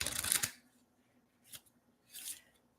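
Tarot cards shuffled by hand, starting with one loud riffling burst, then two fainter brief shuffles after short pauses, heard close with no talk.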